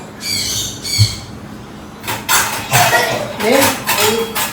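A spoon and a plate being handled in a home kitchen, giving a few light clinks and clatters amid movement, while people talk in the background.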